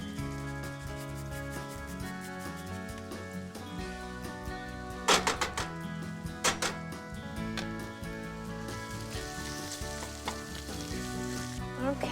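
Onion and shallot sizzle steadily in a pan for mushrooms in creamy white wine sauce, with a continuous frying hiss, a couple of sharp clatters midway, and a tonal hum running underneath, with no talk.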